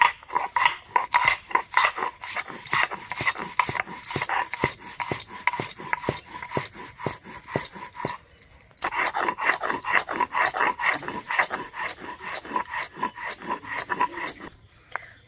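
Garlic, turmeric and ground coriander ground together into a paste on a stone, a steady rapid rhythm of gritty scraping strokes, close and fairly loud, with a short pause midway.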